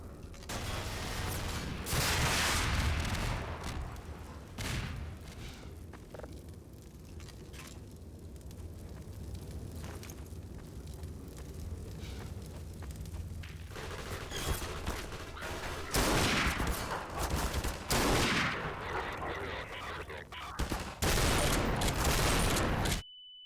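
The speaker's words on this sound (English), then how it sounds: "Oh, a grenade actually killed me." In the Half-Life 2 video game, rapid gunfire bursts and heavy explosion blasts, including a grenade, come in loud repeated volleys, with quieter gaps between the intense firefights.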